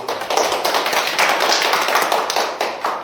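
An audience applauds to welcome a professor before a lecture on wave healing, dense steady clapping from many hands in a hall for several seconds.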